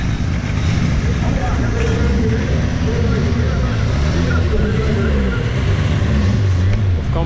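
A car launching hard off the line at a drag-race strip, its engine roaring loud and continuous with rising, surging revs, while people talk over the noise nearby.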